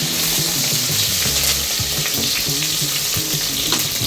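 Curry leaves fry in hot oil with a loud, continuous crackling sizzle, close and dense, with faint low tones underneath throughout.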